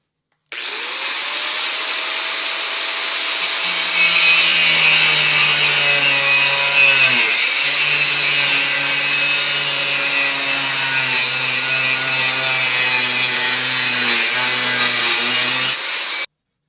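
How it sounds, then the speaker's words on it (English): An angle grinder with an aluminum cutting wheel cuts dry through aluminum, a loud, steady whining grind held for about fifteen seconds with a slight dip in pitch partway through, then cutting off abruptly, with no voices. "just using the aluminum cutting wheel dry, it did okay"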